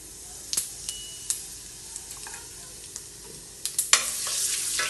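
Whole cumin seeds frying in hot mustard oil give a steady sizzling hiss punctuated by sharp pops and crackles, growing louder and denser toward the end.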